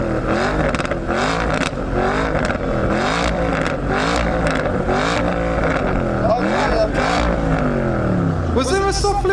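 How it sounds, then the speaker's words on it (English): A 5-litre twin-turbo V8 Porsche Panamera with straight pipes revs hard in repeated loud bursts, its pitch rising and falling with each blip, close and continuous, with people speaking over it. "next up we've got the 5-litre V8 twin-turbo Porsche Panamera, apparently with straight pipes"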